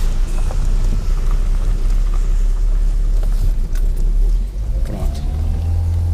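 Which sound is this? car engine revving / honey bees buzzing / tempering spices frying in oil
car engine revving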